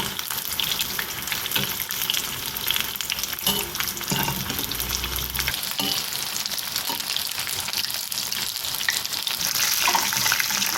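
Prawn tempura deep frying in hot oil, medium-sized prawns giving a dense, loud, unbroken bubbling sizzle up close, with occasional stirring knocks and no voices.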